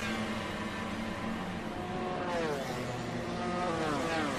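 Onboard sound from a MotoGP motorcycle during the 2019 race at Le Mans, heading onto the back straight: a loud, continuous engine roar with rising revs and wind rush, no talking.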